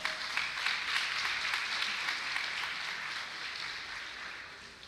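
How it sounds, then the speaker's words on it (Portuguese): A church congregation applauds during a communion service, a broad wash of many hands clapping at moderate distance that slowly fades over several seconds. "Você pode aplaudir o Senhor?"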